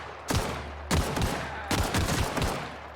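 Weapons firing in the video game The Outer Worlds, loud broadband gunfire arriving in three separate bursts of rapid shots with short pauses between them, with no one talking.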